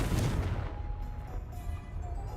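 A Confringo explosive spell blast from the video game Hogwarts Legacy, a single deep booming burst that rolls out and fades over a couple of seconds, loud and close.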